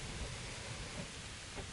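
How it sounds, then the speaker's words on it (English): Steady rain falling in the Kingdom Come: Deliverance video game, a faint, even hiss of downpour with soft low rumbles underneath and no voices. "looking at the rain."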